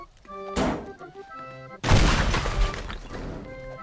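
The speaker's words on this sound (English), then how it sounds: "what if we pipe bomb some stuff at the base here?" Pipe bombs go off in the Teardown video game at a theme park base: a sharp blast, then a heavier, louder explosion with crumbling debris and rumble trailing off, over faint background music.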